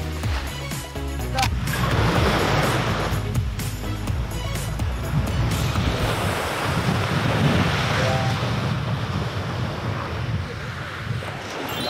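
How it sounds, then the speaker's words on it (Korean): Sea waves wash onto a beach with clear water, a loud, continuous surf roar mixed with gusting wind buffeting the microphone, heard close throughout. "맑은 바닷물 되게 오랜만에 보는 것 같아요"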